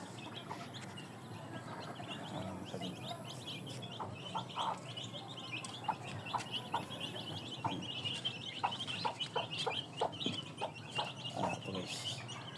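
Small chickens on a rooftop cluck and chirp in scattered short calls over a constant outdoor hum, moderately near, with no talking.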